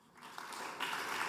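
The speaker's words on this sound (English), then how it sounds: "so please give Michael a round of applause." Applause from a tech conference audience for a presenter introducing Forge UI, beginning quietly and swelling into a fairly soft, dense clapping over about a second.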